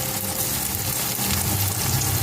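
Chopped garlic and white onion fry in a pan with a steady, close hiss and crackle, continuous and even for a couple of seconds with no talking.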